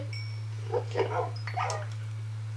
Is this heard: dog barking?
yes